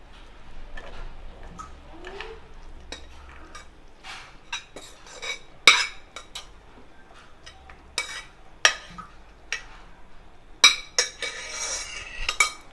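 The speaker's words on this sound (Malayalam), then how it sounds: "ഇനി നന്നായിട്ടൊന്ന് മിക്സ് ചെയ്ത് കൊടുക്കാം." Sukhiyan filling of cooked lentils being stirred and mashed in a pan, with scattered sharp clinks and scrapes of a metal spoon against the pan over a quiet background, irregular and close.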